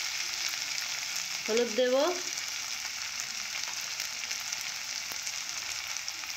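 Okra frying with poppy seeds, turmeric and spices in a pan, giving a steady, close sizzling hiss throughout, with a brief spoken voice partway through.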